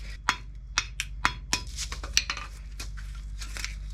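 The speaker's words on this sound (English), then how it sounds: "The bearing's obviously a bit mullered because I've just been hammering it" Metal hammer blows strike a worn wheel bearing on a Mk2 Ford Fiesta, sharp, close clanks in an irregular rhythm with lighter metallic taps between them.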